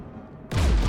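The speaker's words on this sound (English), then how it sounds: "We're taking fire." Anti-aircraft guns firing in Mass Effect, a sudden loud burst of heavy booming fire that cuts in after a quiet hum and continues to the end.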